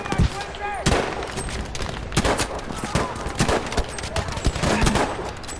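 Rapid bursts of automatic gunfire from the video game Battlefield, loud and dense, with sharp repeated shots over a busy battle backdrop and a voice talking underneath.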